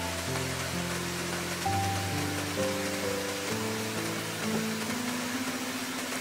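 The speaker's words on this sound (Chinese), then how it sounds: "看着越下越大的暴雨" Heavy rain pours outside a bamboo hut in the wild, a steady close hiss lasting throughout beneath sustained musical tones.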